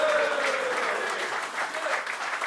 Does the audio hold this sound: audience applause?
yes